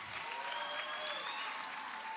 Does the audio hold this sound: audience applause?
yes